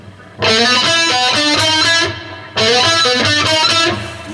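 Distorted electric guitar plays a fast alternate-picked riff of rapid, even notes in two bursts separated by a short gap, loud and upfront.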